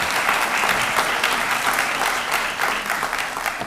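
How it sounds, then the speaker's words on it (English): An audience at a Santa Ana College spring convocation applauding, a dense, steady wash of clapping from many hands that stays loud and even throughout, with no talking. "big applause for that"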